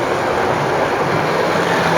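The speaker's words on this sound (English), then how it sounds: "I'm just going to see as it goes over the points nicely" A model railway train runs over the points, making a steady, close whirring rumble with faint rolling clatter throughout.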